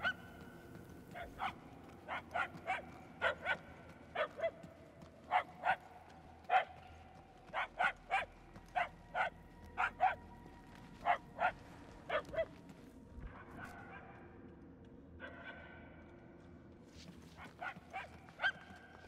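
Puppies in the Guardians of the Galaxy video game yelp and bark in a steady string of short, high, evenly spaced cries, fairly close and clear, pausing briefly before a few more yaps.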